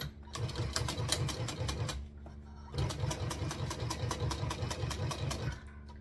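A sewing machine stitching in the ditch runs in two fast, steady bursts of rapid mechanical clatter, separated by a short pause, loud and close with no talk.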